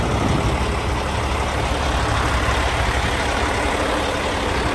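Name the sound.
Peterbilt 389 truck exhaust while idling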